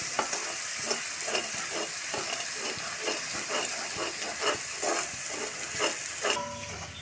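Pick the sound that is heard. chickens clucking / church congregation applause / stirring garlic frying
stirring garlic frying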